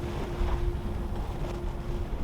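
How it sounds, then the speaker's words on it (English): A strong wind gust rushes over a small sailboat under sail, roaring close into the microphone with water noise and a steady low rumble throughout, no speech. "Woo, that's a big gust"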